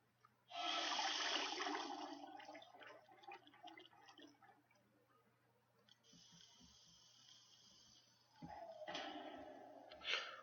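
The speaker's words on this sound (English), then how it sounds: "Drain the water and remove the diving gear." Water draining in the video game It Moves, after diving in a submarine: a gurgling, rushing drain that surges loudly, fades to a low trickle, then swells again near the end, with no talk over it.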